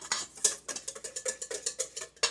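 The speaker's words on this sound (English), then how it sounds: "You just take the wire whisk and whip up those eggs real good until they're kind of fluffy." Wire whisk whipping eggs in a bowl until fluffy, a fast, steady rhythm of bright metallic clicks and scrapes against the bowl, close and clear with no talking.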